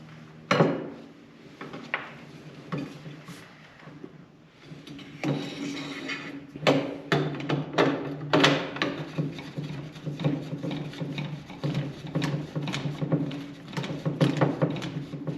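A protective cap is screwed onto the threaded muzzle of a .338 rifle barrel, making close, faint metallic clicks, scrapes and taps in irregular bursts, with no voices.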